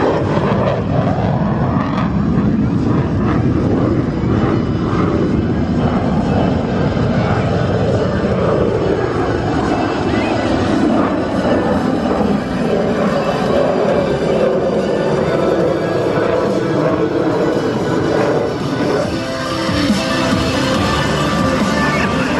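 A single aircraft performs at an air show before landing, with fire trailing from its tail, its engine roar loud and continuous throughout, rising and shifting as it passes, with a voice talking faintly underneath.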